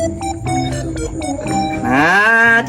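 A cow lowing with a drawn-out, rising moo at the end, near and fairly loud, preceded by shorter harmonic calls or bleats; no talk over it.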